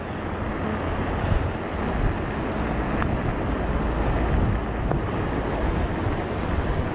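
Steady, loud wind buffeting on the microphone while riding a motorbike along England's south coast, a broad continuous roar with no talk.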